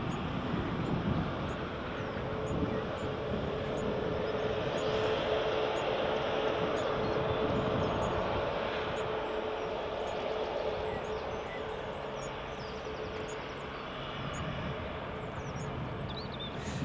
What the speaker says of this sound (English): Okay, the next EasyJet to Geneva is clear for takeoff.